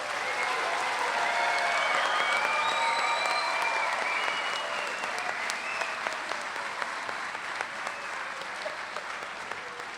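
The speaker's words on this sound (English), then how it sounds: "How about one more round of applause for all of these guys?" Sustained applause from a science fair awards audience, steady clapping filling the room and slowly tapering toward the end.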